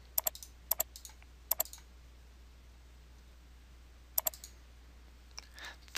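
Quiet, close computer mouse clicks while filtering a pivot chart in Excel 2010, sharp single and double clicks in scattered bursts over faint room hiss.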